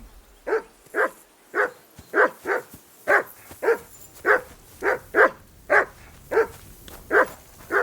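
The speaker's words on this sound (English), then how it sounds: "Get that mutt of yours to stop barking, will you?" A dog in the medieval video game Kingdom Come: Deliverance II barks repeatedly in a steady rhythm, about fourteen evenly spaced barks at moderate distance with little else around.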